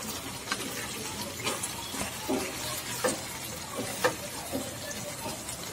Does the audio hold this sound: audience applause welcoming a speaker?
no